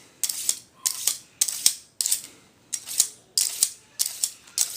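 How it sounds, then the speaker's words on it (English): A knife is drawn repeatedly through a handheld knife sharpener, producing about nine evenly spaced rasping scrapes, close and fairly loud, with short pauses between strokes. "I'm going to use the same knife here and sharpen it in front of the camera."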